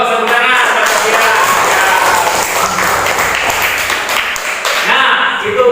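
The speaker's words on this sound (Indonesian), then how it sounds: "Tepuk tangan." A classroom of students applauds together, a steady wash of hand claps that holds loud and even throughout, with a teacher's voice speaking over the clapping.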